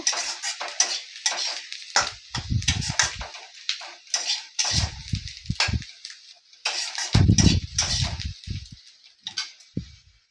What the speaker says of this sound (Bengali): বেসনটা একটু ভেজে নেব